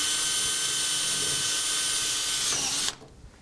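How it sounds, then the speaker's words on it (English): A power drill drives a reinforcement screw into a joined section of stove vent pipe, whining loudly and steadily for nearly three seconds before it abruptly stops, leaving a quiet room. "We'll push down the lock tab and we'll drill a reinforcement screw."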